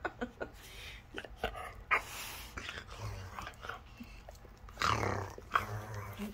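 Dog growling and snarling in playful mock biting, with irregular bursts of rough growls, snaps and chewing sounds close by, mixed with brief human murmurs.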